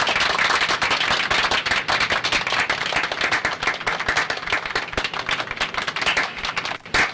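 Hands clap in a dense, steady patter like a crowd applauding, loud and continuous throughout, with no talking over it.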